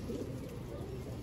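A Bavra pigeon cooing softly and close by, a low continuous burbling call over faint background hiss.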